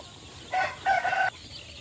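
A Joper chicken in a holding pen at a poultry farm gives two short, loud crowing calls in quick succession over quiet background.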